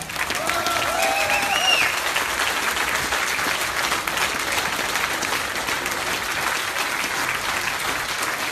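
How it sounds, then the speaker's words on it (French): A street demonstration crowd applauds Sandra, a communal council representative, with continuous dense clapping that stays loud and even throughout, a few faint shouts and whistles rising above it. "Applaudissez-la, c'est Sandra"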